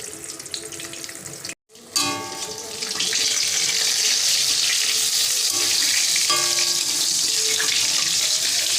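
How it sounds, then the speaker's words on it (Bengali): Eggplant slices fry in a pan with a loud, continuous sizzle after a brief gap and a clatter of turning, the spitting hiss swelling and staying steady to the end. "বেগুনগুলো উল্টো পাল্টে দিচ্ছি হালকা হালকা লাল লাল হয়ে গেছে"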